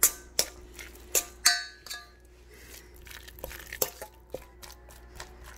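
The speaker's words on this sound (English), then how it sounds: "You can get yourself a fork. And you can just mush it down." A fork mashing ripe avocado in a bowl for guacamole: clinking scrapes and taps of metal against the dish in irregular bursts, close and moderately loud, with no talking.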